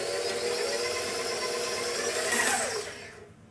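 A kitchen mixer whirs steadily as it blends gluten-free fig newton dough, a constant motor hum with a brief rise in pitch before slowing and cutting off near the end.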